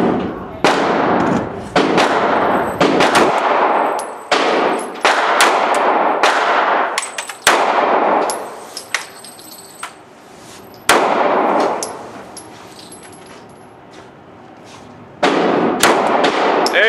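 Springfield EMP pistol firing in a rapid string of loud, sharp shots, each followed by a ringing clang from steel targets, with pauses between volleys and brief talk near the end.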